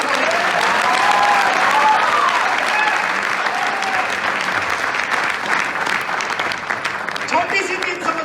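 A live seminar audience claps together in sustained, dense applause, steady and loud throughout, with a few voices breaking through near the end.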